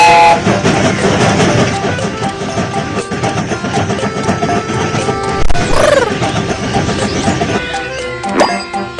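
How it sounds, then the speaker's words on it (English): A cartoon train sets off with rhythmic chugging and clattering wheels under bright music, a whistle rising partway through, all loud and close. "The train is about to start."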